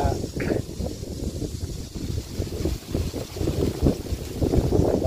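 Wind buffets the microphone in low, rumbling gusts that swell and fade, with a voice talking faintly underneath.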